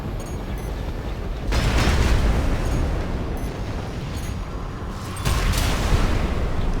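Heavy, rumbling booms of cannon fire in Armored Core 6, two big blasts that swell into long roaring bursts over a continuous noisy background.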